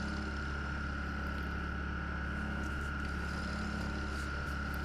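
A walnut bowl spins on a wood lathe at 2,300 RPM while being hollowed, a steady close whirring hum with a high whine and faint scraping of the tool against the wood, no talk.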